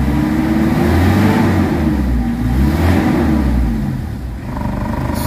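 A Mitsubishi Adventure engine with a low-power, weak-pulling fault revs steadily and loudly up to around 3,000 RPM, a continuous close drone with a slight dip near the end, no voices.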